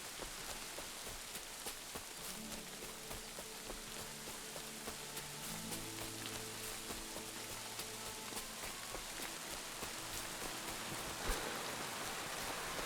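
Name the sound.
rain in the video game Kingdom Come: Deliverance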